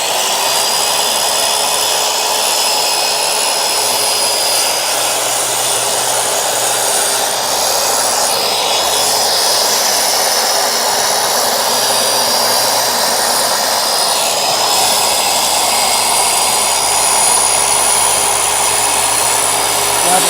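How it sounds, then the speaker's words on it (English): A skill saw cuts wood along a clamped straight edge with a loud, continuous high whine that holds steady and close for the whole stretch, with a slight shift in pitch partway through. "we can bump our skill saw right up against it and make a quick, so we can make a quick cut"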